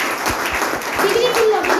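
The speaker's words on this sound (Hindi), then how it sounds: "एक बार इनके लिए भी ताली बजा दो" Applause and clapping from an audience at a business success meeting, honouring a director, a steady broadband patter heard under and around a voice as he keeps speaking.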